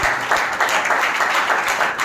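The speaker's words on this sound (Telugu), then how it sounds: "గట్టిగా చప్పట్లు కొట్టాలి" A church congregation claps loudly and steadily in dense, continuous applause, close and filling the room, with no voices over it.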